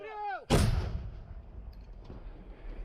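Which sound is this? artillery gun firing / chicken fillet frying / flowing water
artillery gun firing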